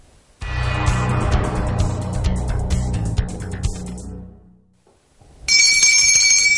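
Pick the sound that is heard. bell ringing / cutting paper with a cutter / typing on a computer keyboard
bell ringing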